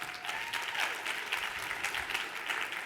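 Steady applause from an audience for a guest speaker fills the room, dense and even throughout, with a faint voice or tone briefly underneath.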